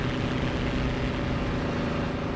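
A Spitfire's piston engine in the DCS flight simulator drones steadily and loudly, a continuous rumbling propeller roar with no pauses or talk.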